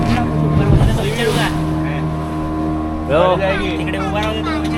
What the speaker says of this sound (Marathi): चला आमची बोट निघालेली आहे आता